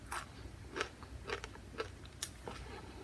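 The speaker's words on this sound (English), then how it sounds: "Do you hear this? How crunchy it is?" Fried green plantain arañitas crunch with each bite, several sharp, close crackles spaced unevenly over quiet chewing, with no talking.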